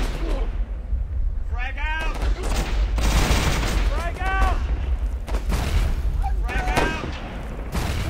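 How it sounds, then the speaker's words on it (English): Rapid machine-gun fire and explosive bursts in the WWII shooter Warfare 1944, a dense continuous barrage with booming impacts and whistling shells, loud and close throughout. "machine guns are very strong"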